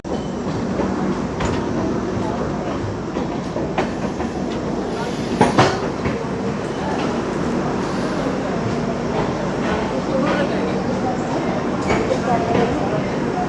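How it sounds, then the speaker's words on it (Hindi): The Dakshin Superfast Express, an Indian passenger train, rushes past close by with a steady loud roar and rhythmic wheel clatter over the rails, filling the whole stretch without letup. "ये थी दक्षिण सुपरफास्ट एक्सप्रेस।"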